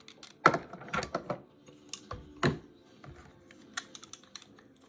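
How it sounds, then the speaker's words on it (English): Metal parts click and clack as the buffer spring and buffer come out of an AR-style rifle's lower receiver during a field strip, in a handful of sharp, irregular knocks and rattles up close. "Next, I'm going to remove my buffer string and my buffer."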